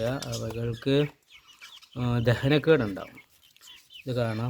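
Chickens being fed thermocol peck and cluck in short bursts close by, mixed in with a person talking over them.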